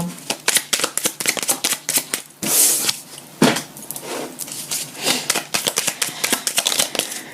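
Angel oracle cards are shuffled close up in a rapid run of crisp riffling bursts and slaps, with brief pauses between handfuls.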